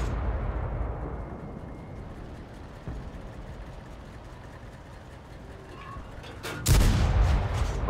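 World of Tanks battle soundscape with a rumbling low background, a dull distant boom partway through, then a loud heavy blast of artillery-like fire near the end, followed by lingering rumble.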